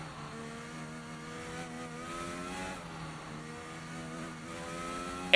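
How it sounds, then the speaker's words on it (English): A modded Formula 1 car with a Honda-like engine note races in a video game at the Belgium round, its high revving whine climbing and dropping through gear shifts, alone without speech and with a sharp burst at the end. "It sounds a little bit like the Honda engine still, but it does sound a little bit different."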